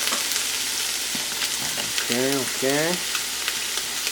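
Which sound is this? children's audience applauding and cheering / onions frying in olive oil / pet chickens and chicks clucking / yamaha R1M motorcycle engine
onions frying in olive oil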